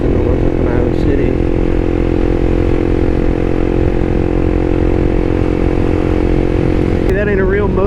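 A Honda CBR300R motorcycle engine drones steadily up close while riding, loud and constant, with a brief rise in pitch near the end.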